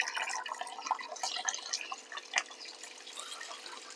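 Water used to wash finger millet trickles and drips softly, with faint irregular splashes and small droplets close by, quiet and without speech.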